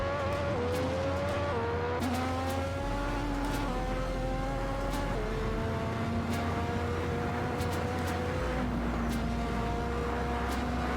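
A 200 mph Ferrari Formula 1 car in a racing video game, its high engine whine climbing and shifting through gears while weaving through traffic, with sharp tire squeals and ticks over a loud steady drone.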